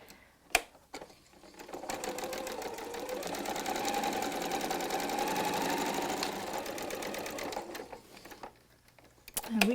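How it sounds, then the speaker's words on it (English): A sewing machine chain-stitches bias-cut pieces of a kaleidoscope quilt block, running in one continuous rapid whir for about six seconds before slowing to a stop, close by, with brief knocks and handling sounds at either end. "And we can just keep sewing, can't we?"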